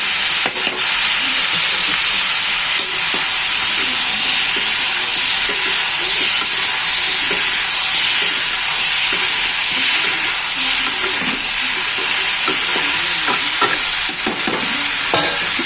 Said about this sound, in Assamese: ইয়াৰ পিছত মই কাটি ৰখা পাচলিখিনি এড কৰিম